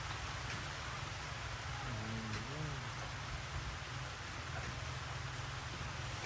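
Steady rain falls on a rural homestead, a dense constant hiss with a faint voice briefly audible in the middle.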